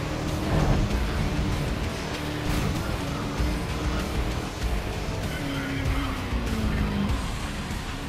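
A race car in GRID Legends, badly damaged, roars continuously with a loud engine drone while tires squeal and skid in long stretches, a dense, unbroken racing din throughout.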